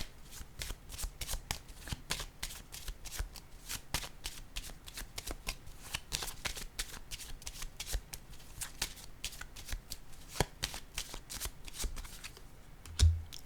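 Tarot cards are shuffled and handled at close range in a long run of quick, dense papery riffles and flicks, with one soft thump near the end as a card is laid down, no talk.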